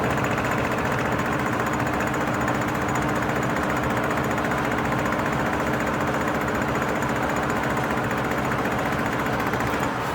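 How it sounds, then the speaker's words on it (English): A 1966 Ford Mustang's electric fuel pump runs beside its carburetor with a steady, dense mechanical buzz and rapid rattling pulses. The sound is loud and continuous, with no talking. "I'm gonna turn the fuel pump on just to make sure that carburetor is not flooding gas out."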